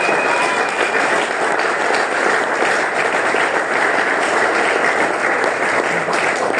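A church congregation at a Libreville service applauds in a dense, continuous wash of clapping that stays loud and even for the whole stretch.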